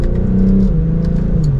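A BMW M240i xDrive engine with automatic transmission revs loudly and close, a steady deep exhaust drone that climbs in pitch and briefly dips as gears change, rumbling continuously throughout.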